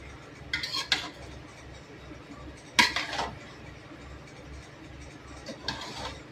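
Chicken pulao stirred in a pot, a spoon scraping and clinking against the metal in a few bursts over a low background hum.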